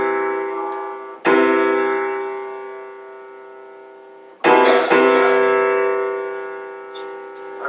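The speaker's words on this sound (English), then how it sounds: "So I've just made that major third nice and pure." Sustained harmonic tones ring out, struck twice and slowly decaying, as two notes sound together and settle into a smooth, beat-free interval.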